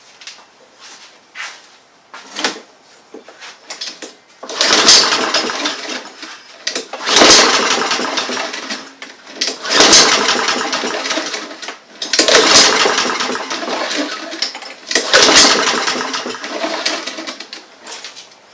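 A Honda engine on a Troy-Bilt lawn mower cranked repeatedly without starting, about five loud whirring pulls of a few seconds each, separated by short pauses and small clicks and clatter.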